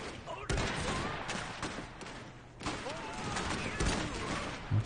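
Rapid, overlapping pistol gunfire from engineer units in the 1920s alternate-history strategy game Iron Harvest, a steady crackle of shots with a few louder bursts over dense battle noise.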